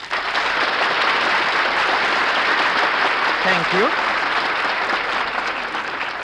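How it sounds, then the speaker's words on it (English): A studio audience applauds steadily and loudly throughout, while someone briefly says a few words partway through. "will you please stop applauding these guys?"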